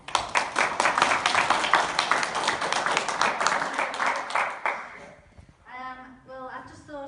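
Audience applause for a speaker at a sponsoring talk, a loud, dense wash of clapping for about five seconds that fades out, followed by a voice beginning to speak.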